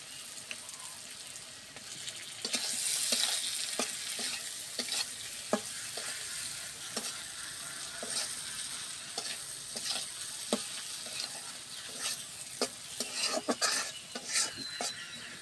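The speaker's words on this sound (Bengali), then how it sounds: "এখন আমি একটু সময় কষিয়ে নিব। চিংড়ি মাছগুলো দিয়ে দিব।" Prawns and masala stir-fried in a pan: a steady sizzle with repeated sharp scrapes and clinks of a spatula against the metal, close up and continuing throughout.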